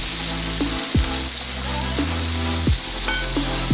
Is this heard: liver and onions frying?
yes